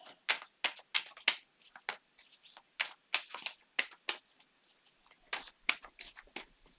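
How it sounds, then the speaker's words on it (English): Tarot cards are shuffled by hand in quick, irregular riffling bursts, crisp papery slaps repeating close up with no talking. "I do like to really get them broken up and into the energy when I shuffle this way"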